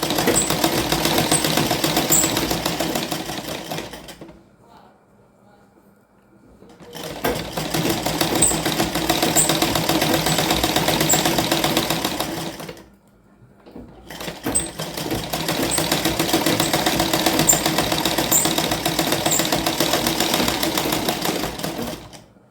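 A sewing machine runs steadily as it stitches cloth, loud and close, in three long continuous bursts broken by two short pauses, with no talking.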